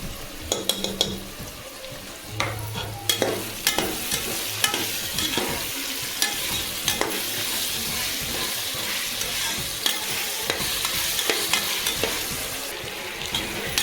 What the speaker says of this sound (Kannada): ಇವಾಗ ತರಕಾರಿ ಚೆನ್ನಾಗಿ ಫ್ರೈ ಆಗಿದೆ. ಇವಾಗ ಶುಂಠಿ ಬೆಳ್ಳುಳ್ಳಿ ಪೇಸ್ಟು 2 ಸ್ಪೂನು